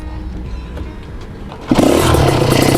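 A new motorcycle engine fires up abruptly after a quiet start, catching about midway and then idling and revving loudly and close, alone without talk.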